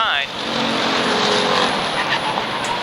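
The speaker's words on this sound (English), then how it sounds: "Couple cars going around through the turns." Late model race cars on an oval short track, a loud continuous engine roar sweeping through the turns, steady and close throughout with a brief dip at the start.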